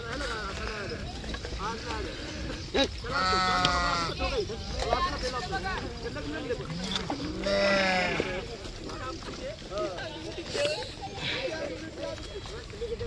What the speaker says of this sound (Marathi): सगळे चाललेत आता मेंढ्या